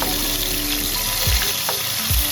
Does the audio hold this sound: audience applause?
no